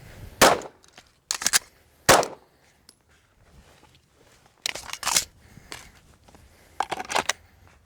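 Pistol fired during a reload drill: about five sharp, dry cracks in irregular pairs and singles, moderately distant and fairly quiet, separated by stretches of low background noise.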